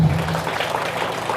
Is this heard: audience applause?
yes